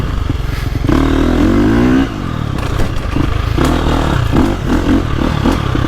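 A KTM 350 XCF dirt bike engine, 2025 model, roars loud and close as it revs and accelerates, the pitch climbing and dropping through gear changes, with clattering and scraping from the riding.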